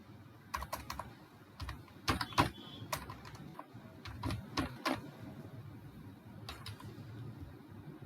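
Computer keyboard keys tapped while entering data into an Excel spreadsheet, in irregular bursts of clicks and keystrokes up close over a low background hum, with no talking.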